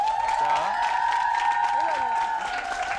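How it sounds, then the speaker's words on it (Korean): A studio audience on a Korean live variety show claps and cheers in a steady, continuous burst, with a sustained musical tone and voices calling out over the applause. "박수 한 번"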